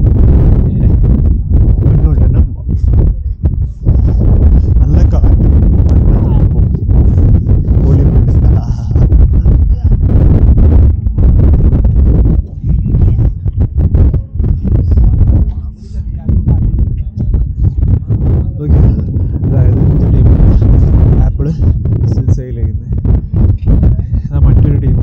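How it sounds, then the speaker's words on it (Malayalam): A strong dusty mountain wind batters the microphone near the Atal Tunnel, producing a loud, continuous low rumble with gusting surges that bury a voice speaking beneath it. "കാറ്റുള്ളതുകൊണ്ട് എൻ്റെ ഞാൻ എത്രത്തോളം ഓഡിയബിൾ ആണെന്ന് എനിക്കറിയില്ല. നല്ല പൊടിക്കാറ്റ് വീശുണ്ട്."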